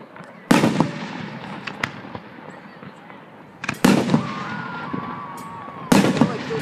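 Fireworks at a 100th birthday celebration burst in three loud booms spaced a few seconds apart, each followed by crackling, with faint voices in the background.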